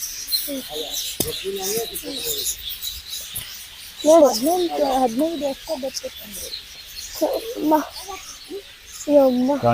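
Birds, including parrots, chirp and coo in short warbling bursts in an aviary at Mysore Zoo, amid background chatter, while people talk intermittently nearby.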